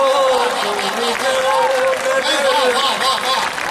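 Audience applause at a Hindi comedic poetry show, a steady wash of clapping filling the hall with a sustained held voice note riding over it, loud and continuous throughout.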